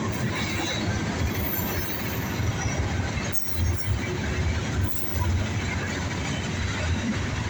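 A southbound Norfolk Southern freight train rolls past close by with boxcars, a continuous loud rumble of rail cars with rhythmic wheel clatter and faint squeal throughout.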